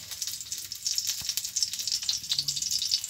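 Ghee heating in a kadhai sizzles steadily with fine crackling pops, close and continuous, no voices over it.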